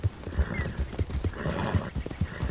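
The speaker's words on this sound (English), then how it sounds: "Come on, horsey." A horse's hooves clip-clop at a steady trot in the video game Red Dead Redemption 2, close and even-paced, with no talking.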